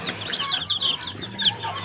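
A hen and her chicks cluck together close by, soft bursts of peeping and clucking trading back and forth in a short, busy run.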